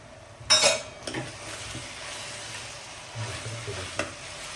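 Mixed vegetables with peas and pigeon peas being stirred in a frying pan for shak chapadi: a soft steady sizzle with scraping and a few light utensil clinks against the pan.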